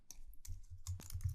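Short burst of typing on a computer keyboard, close and quiet, with a few distinct key clicks scattered over about a second and a half.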